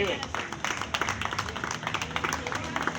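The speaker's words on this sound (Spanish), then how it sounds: "Bríndale un aplauso a Jesús" A church congregation claps in a dense, steady patter during a sermon, with voices speaking over the applause.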